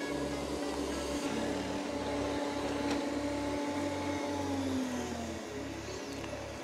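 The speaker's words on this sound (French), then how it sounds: "il vient d'entrer sur le tapis, il augmente sa capacité d'aspiration" An Ecovacs Deebot T8 robot vacuum works on carpet nearby, a steady low motor whine that ramps up in suction and then eases off again, quiet and without talk.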